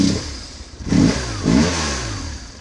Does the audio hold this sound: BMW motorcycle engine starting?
yes